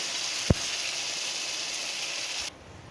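Onion, ginger, garlic and tomato paste sautéing in a pan for chicken kosha, a steady soft hiss with one brief clack of a utensil, then cutting out.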